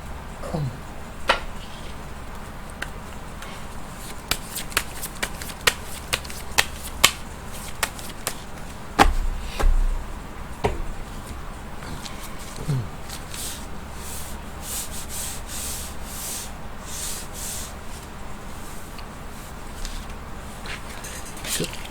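Dense, papery rubbing and riffling with crisp flicks scattered throughout, tarot cards being shuffled up close, with a faint low murmur underneath.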